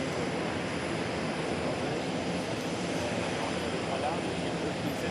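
A Dassault Falcon business jet takes off during the flying display at the Paris Air Show, a continuous broad engine roar that stays loud and steady throughout, with an announcer's voice faintly underneath.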